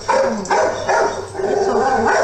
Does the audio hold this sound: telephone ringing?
no